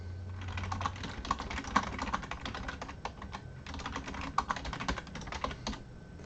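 Fast, steady typing on a computer keyboard, close and clear, with a continuous stream of key clicks and occasional louder keystrokes, a short pause midway, and no voices.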